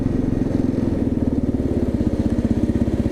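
A 2022 Kawasaki KLR 650 single-cylinder motorcycle ridden along small narrow roads, its engine thumping in a steady loud rapid pulse close to the microphone throughout.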